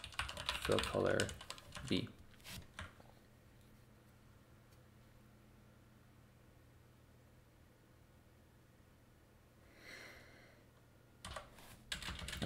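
Typing on a computer keyboard during live coding of a CAD program, bursts of close clicking keystrokes between stretches of quiet, with someone talking at the start.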